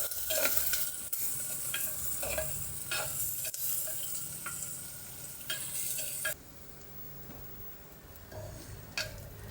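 Chopped onion sautéing and sizzling in a pan for traditional besan pithla, with a spoon stirring and scraping in repeated strokes over a steady close fry; no speech.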